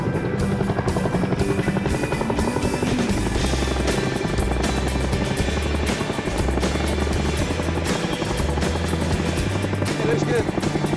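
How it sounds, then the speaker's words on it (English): A twin-rotor Chinook military helicopter flies nearby at an Air Force base in Afghanistan, its loud rhythmic blade thudding and engine whine going on continuously while people talk over it. "And another Chinook's ready for the combat zone."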